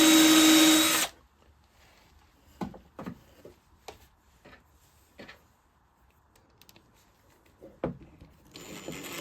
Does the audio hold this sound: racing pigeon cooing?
no